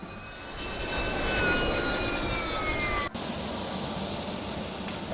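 A Harrier jet's engine roars continuously in ArmA 2, a steady droning whine with faint tonal whistles, moderately loud and unbroken apart from a brief cut partway through.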